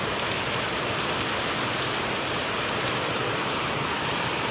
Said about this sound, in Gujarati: અત્યારે કેટલો વરસાદ પડે છે